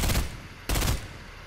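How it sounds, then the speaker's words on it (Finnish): Two loud, close gunshot bursts in Fortnite, one at the start and another about halfway through, each decaying quickly. "Se alkaa ampumaan sitä."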